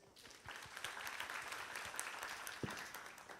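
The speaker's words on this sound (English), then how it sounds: "Please give her a big round of applause." Steady applause from an audience at a high school students' conference fills the room, a dense patter of many hands clapping at moderate volume.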